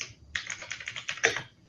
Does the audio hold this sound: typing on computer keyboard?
yes